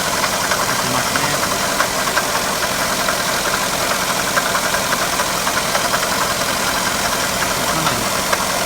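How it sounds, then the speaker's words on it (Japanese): A Daihatsu Tanto's failing water pump gives off a constant close rattling and knocking at the pulley over a steady idling engine, with no speech. "ガタガタと音が出"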